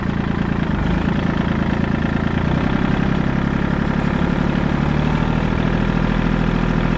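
A Kubota L2501 diesel tractor with a front loader and a box blade runs loud and close, its steady low engine rumble changing pitch partway through as it gears up.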